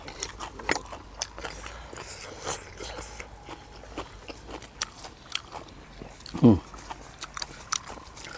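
Water lettuce is being eaten with a bitter chili dip, giving close, crisp crunching and chewing bites, with one louder crunch standing out amid quiet mouth noises and occasional speech.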